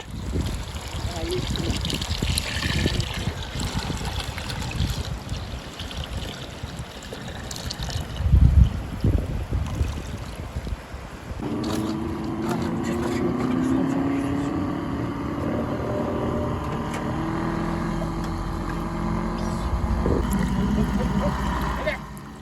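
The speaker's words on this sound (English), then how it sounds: "This is a manual milk separator. With its help, shepherds get sour cream. For the separator to work, you need to spin the centrifuge well." A hand-cranked manual milk separator spins its centrifuge in a yurt, giving a continuous whirring, liquid-trickling hum that grows steadier and more tonal in the second half, with voices speaking over it.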